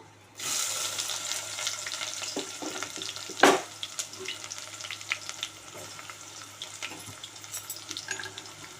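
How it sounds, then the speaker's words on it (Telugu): Onions dropped into hot oil with whole garam masala of cloves, cardamom, cinnamon and shahi jeera for mutton curry, a sudden loud sizzle that settles into steady close frying with stirring clinks and a sharp burst midway. "హోల్ గరం మసాలా, లవంగ, ఇలాచి, దాల్చిన చెక్క, సాజీరా. ఇప్పుడు ఆనియన్స్ వేసుకుందాము."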